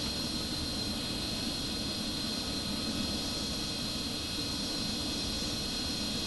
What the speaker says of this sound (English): The MiG-29 shown here are flown by a professional piloting squadron known as the Strigi, Swifts